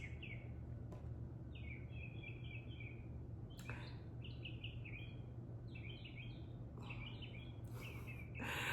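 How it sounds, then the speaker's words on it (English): Faint birds chirping in short repeated phrases over a low steady background hum, a few sharp clicks scattered through. "You hear the birds."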